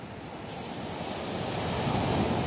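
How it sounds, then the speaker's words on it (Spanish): Ocean surf breaking steadily on a beach at Arroyo, Puerto Rico, on the south coast: a continuous broadband roar that gradually swells louder, with some wind buffeting the microphone and no voices. "Esos son los marullos."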